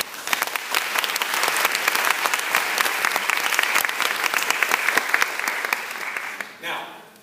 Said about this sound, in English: Can I have another round of applause for both of the judges?